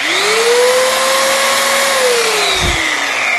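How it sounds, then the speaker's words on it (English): Belt sander run along the edge of a dented surface, held vertically, giving a loud, steady motor whine with a gliding pitch that drops near the end, plus a brief low thump of contact. "I take this belt sander"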